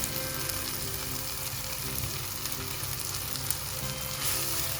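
Chilli and coriander powder being stirred with tomatoes in a pan for mango curry, giving a steady, close sizzle of frying with faint scraping from the stirring and no voices.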